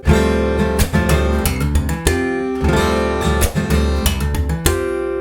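Percussive guitar playing with sharp slapped attacks and ringing sustained notes in a quick, rhythmic pattern of hammer-ons and harmonic slaps, loud and close with no talking.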